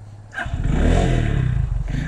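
A Runner Bolt 165r motorcycle is ridden, its engine rising into a loud, close, steady revving drone after a brief quieter start, with rushing wind noise on top.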